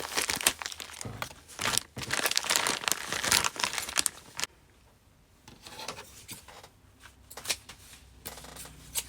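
Close-up paper scissors snipping through zipper tape, bursts of crisp cutting and rustling, then a quieter pause with a few lighter snips and handling noises.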